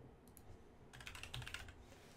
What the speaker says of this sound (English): Don't listen to the typing.